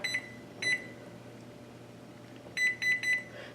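An oven timer being set in a home kitchen gives short electronic beeps: two single beeps at the start, then after a quiet gap a quick run of three more, clear and close over a faint steady hum.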